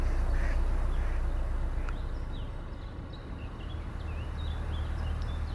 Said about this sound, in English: Poor old ducks think that someone's just shot at them.